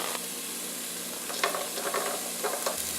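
Diced celery and onion sautéing in a pot for chicken gnocchi soup, a steady low sizzle with a few soft stirring scrapes and clinks, fairly quiet and close, with no talking.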